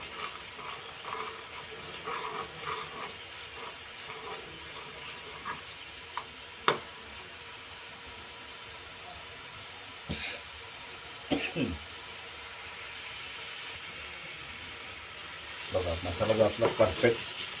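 Dal makhani masala mixture frying in oil in a pan, a low continuous sizzle broken by a few sharp clicks and knocks, with a louder sputtering crackle near the end.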